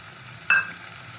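Spice paste with ground cumin and coriander powder sautéing in a pan for a Bengali vetki fish curry gives off a brief, sharp sizzling burst that quickly fades against a quiet background.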